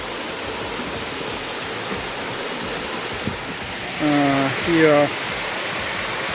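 The Krushuna waterfalls in Bulgaria's Lovech region roar as a steady, dense rush of falling water, constant and loud throughout, with someone speaking briefly over it.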